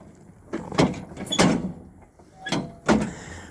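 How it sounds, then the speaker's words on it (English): A Kubota turn steer mower's deck raised with a single foot pedal, a few metallic clunks and latching thuds from the linkage in separate bursts, close by, with short pauses between them. "1 foot, push it in, the deck comes up."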